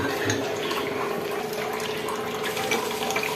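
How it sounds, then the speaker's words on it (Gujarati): A Kangen water machine dispenses water in a steady, unbroken pour with a bright splashing hiss that stays level and close throughout. "આમ એક જ મશીનમાંથી 7 પ્રકારના પાણી નીકળે છે."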